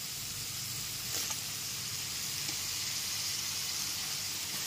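Cut bottle gourd pieces drop into a sizzling, oil-released spice paste in a pan, giving a steady broad hiss that holds throughout with a slight swell early on, no talking.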